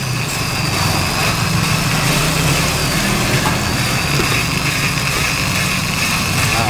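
A Yamaha Scorpio motorcycle engine, its cylinder head just reassembled, runs close and loud with a steady, even revving roar held for several seconds without any speech.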